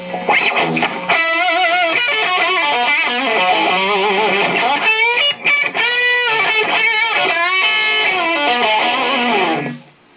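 Electric guitar played through a Blackstar HT100 amp head on its lead channel, giving a loud, distorted classic-rock lead with sustained bent notes and fast melodic runs, continuous for about ten seconds before fading out.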